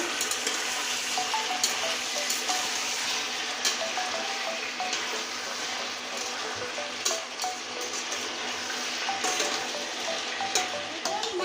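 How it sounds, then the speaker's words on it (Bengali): Chopped tomatoes and a whole garlic bulb sauté in a pan for Bengali-style chicken kosha, giving a dense, continuous sizzle broken by frequent clicks and scrapes of stirring, with no voices. "টমাটোর সঙ্গে অনেকক্ষণ কষিয়ে নিয়েছি"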